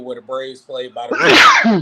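Someone talking about stadiums breaks off into a loud, close sneeze that bursts out sharply right after his words.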